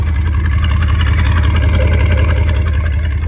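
A Mercedes-Benz car engine runs steadily at idle, a loud, close, continuous low rumble with an even throb and no change in pitch, with no talk heard over it.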